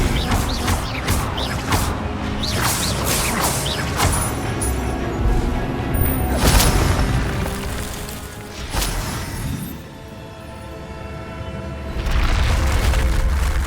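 Casting Expelliarmus and Incendio in the Hogwarts Legacy video game sets off loud, dense magical combat: whooshing spell blasts, booming impacts and crashes one after another, with almost no pause.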